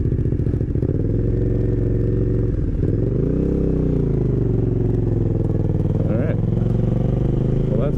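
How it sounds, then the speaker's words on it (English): The engine of an Aprilia Caponord 1200 GPR motorcycle with an aftermarket exhaust runs loud and close. It winds down and rises, and near the end a few crackling pops come from the exhaust on the overrun. "There's the popping. Yeah, on the overrun it sounds so good."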